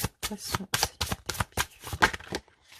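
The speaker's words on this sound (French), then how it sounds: "Alors, on va prendre une carte avec l'oracle Cessioli." Oracle cards are shuffled by hand in a run of about ten quick, crisp riffling bursts in a loose rhythm, close and clear with short silent gaps between them.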